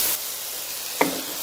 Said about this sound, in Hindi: अब इसके अंदर मैं मटर ऐड करती हूँ।